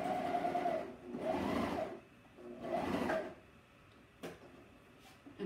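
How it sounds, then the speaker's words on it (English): A two-needle sewing machine stitches a short T-shirt seam, tacking down a serged seam, in a few steady whirring bursts of about a second each with brief pauses between, fairly close. "let me sew, and then it's a very short seam anyway, so I'll sew it and then I'll show you."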